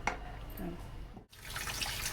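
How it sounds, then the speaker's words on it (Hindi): Water from a pot of boiled pasta draining out, a continuous splashing, trickling pour that runs steadily with a brief break partway through, close by with no talk. "अब इसको पानी हम ड्रेन कर देंगे, इसका निकाल देंगे पानी।"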